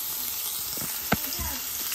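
Bacon fries in butter in a pan, a soft steady sizzle with a brief sharp crackle or pop near the middle.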